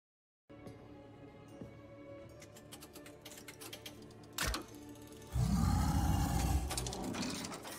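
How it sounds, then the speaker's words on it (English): Slot machine in the game Warcraft Arclight Rumble: rapid mechanical clicking and ticking over a low hum, a brief thump, then a loud roaring surge of game sound near the end, with no talking. "this starts with a slot machine?"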